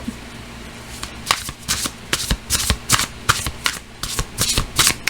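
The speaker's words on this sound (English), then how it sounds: "When I first saw them shuffling like this" Close, rhythmic tarot card shuffling: a run of quick papery riffles and snaps repeating roughly every half second, with no talking over it.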